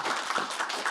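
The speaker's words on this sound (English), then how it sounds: "Guys, we need a round of applause for the 501st and all the clubs." Convention audience at the Rebel Scum Con 2024 closing ceremony applauds the 501st costume group and fan clubs, a brief steady wash of many hands clapping, moderately loud and slightly distant.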